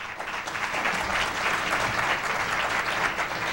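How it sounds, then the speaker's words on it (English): Guests at a press club luncheon break into dense, sustained applause filling the room, loud and even throughout the short stretch. "the applause is not coming from these objective journalists assembled here from news organizations, but rather from the guests"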